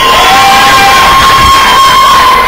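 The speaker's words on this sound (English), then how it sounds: "Looks like Kay Slay is trying to get some pop here from the crowd." A wrestling crowd at a one-year anniversary show cheers loudly and steadily, with whoops and shouts rising and falling in a dense, continuous roar.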